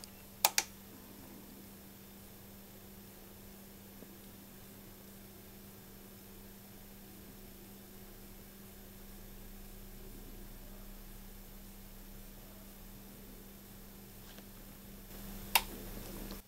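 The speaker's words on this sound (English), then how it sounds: "let's turn it on and let's wait for that extra click at the end." Relay inside an Onkyo receiver with a no-sound fault clicking after power-on, two sharp clicks at the start and one more near the end, separated by a long stretch of faint hum.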